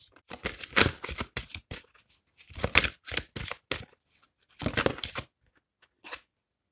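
Tarot cards being shuffled in close, rapid riffling bursts separated by short pauses, crisp papery flutters with no talk.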